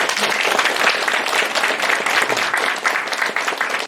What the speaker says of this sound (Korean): 동의하시면 박수 한번 주시겠습니다